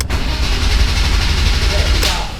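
A BMW inline-six turns over on the starter during a compression test, a loud, close, steady rhythmic cranking that runs about two seconds before stopping, with people talking over it.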